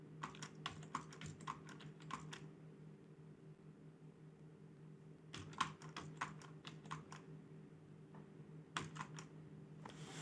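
Numbers are typed on a computer keyboard for a C++ quick sort program, heard as quick bursts of close, crisp key clicks separated by short pauses, with no talking.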